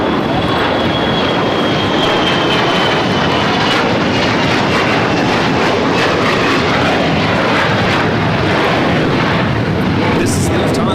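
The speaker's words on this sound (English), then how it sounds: "This is Lufthansa 456 coming in from Frankfurt on the 747-8 Intercontinental Yankee Kilo." A Lufthansa Boeing 747-8 Intercontinental from Frankfurt lands at Los Angeles airport with a very loud, close, sustained jet roar and a faint high whine, while voices talk beneath the engine noise.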